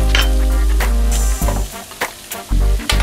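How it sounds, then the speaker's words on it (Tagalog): Tofu cubes frying in hot oil for tokwa sisig, a close, continuous sizzle broken by several sharp clinks and scrapes of a utensil stirring in the pan. "iprito nyo lang siya ng 2 minutes sa mainit na mantika"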